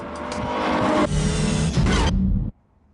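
A Pagani Zonda R supercar's engine roaring loud and close, a harsh sustained howl with a shift-like break partway, then cutting off abruptly to near silence.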